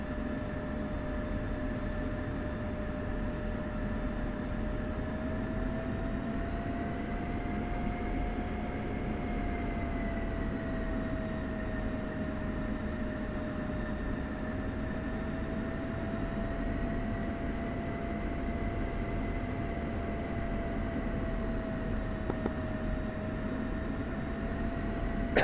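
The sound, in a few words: F-16C jets taxiing, from video game DCS flight simulator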